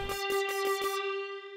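A synthesizer patch recreating a theme from the Stranger Things soundtrack, played dry without effects: a sequence of about five quick, bright pulsing notes over a sustained tone that then rings on alone and slowly fades.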